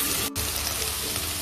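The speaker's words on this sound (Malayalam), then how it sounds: "ഇനി നമുക്കിതിലേക്ക് സോസ് എല്ലാം ഒഴിച്ചു കൊടുക്കാം." Soy sauce poured into a pan of frying vegetables for chilli gobi manchurian gravy, producing a loud, steady sizzle with a brief dip near the start, no talking.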